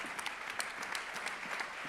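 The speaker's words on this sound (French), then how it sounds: "Oui, applaudissez." An audience applauds at an awards ceremony, a dense, even patter of many hands that runs throughout at moderate level, heard alone without speech.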